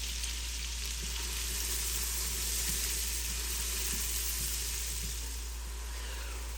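Brunoise onions sizzle steadily in melted butter and bacon fat in a pan, a continuous bright frying hiss with occasional soft pops and stirring taps, close and unbroken.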